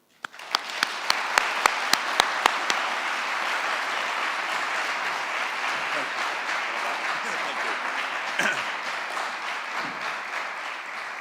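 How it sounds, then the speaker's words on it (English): An audience at a university prestige lecture bursts into sustained applause to welcome a professor to the podium, opening with a few sharp individual claps before settling into a dense, steady wash of clapping across the hall. "Please join me in giving a warm and enthusiastic round of applause"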